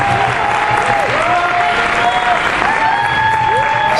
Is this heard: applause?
yes